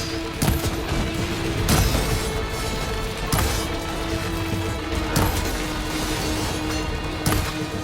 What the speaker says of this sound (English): Take out those machines with that cannon!